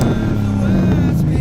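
Ford Mustang idling with a brand-new welded-on exhaust with burnt tips, a loud, steady low rumble close by with no voices.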